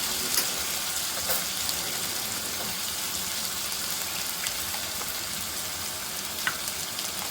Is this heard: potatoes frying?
yes